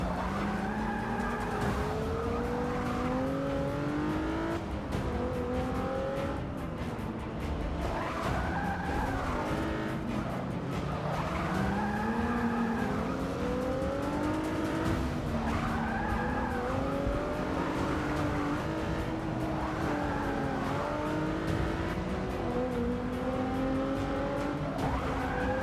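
Race cars engines revving and shifting through gears with tires skidding and squealing in Forza Motorsport 6, a steady loud rising and falling whine running throughout with no voices.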